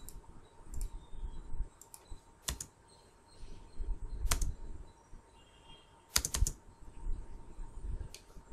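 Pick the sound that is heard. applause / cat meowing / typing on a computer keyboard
typing on a computer keyboard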